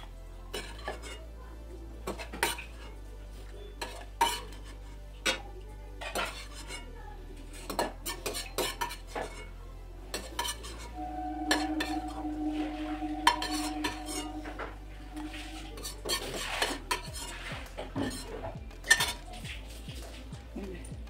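Fried chhana is lifted out of a wok with a metal utensil, giving irregular clinks, scrapes and clattering of pans and cutlery, some taps sharp and close, against a low kitchen hum.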